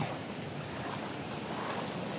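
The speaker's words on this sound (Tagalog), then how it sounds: "Parang lumakas ang tubig talaga ngayon." Powerful rushing waterfall water roars continuously, a dense, steady hiss of heavy falling water close by in a forest, no voices.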